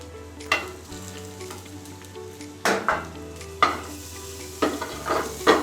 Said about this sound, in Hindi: ये पनीर डाल दिया गया और अच्छे से इसे मिला दिया जा रहा है पनीर के साथ।